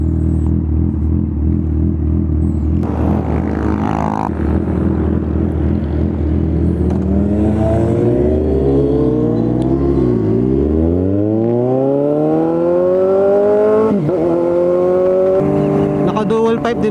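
A motorcycle with dual exhaust pipes revs loudly close by on a breakfast ride to Sitio Baag. The engine pitch rises and falls through several throttle swells over a continuous ride roar.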